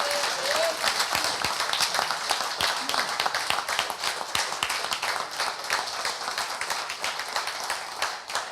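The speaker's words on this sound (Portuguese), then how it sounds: "Aplaudidos, de pé, merecidíssimos." Standing ovation at a formal council session after a performance, many hands clapping in a dense, close burst that stays strong before tapering slightly at the end.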